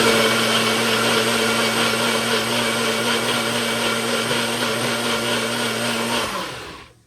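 A blender mixing masamorra runs loud and steady with a high whirring motor hum, then winds down and stops near the end.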